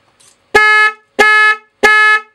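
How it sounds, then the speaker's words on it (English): Three loud, steady honks from a radio-controlled model Land Rover Defender 110's small horn, each lasting about a third of a second with short gaps between, close by and alone. "you honk the horn, and they just jump"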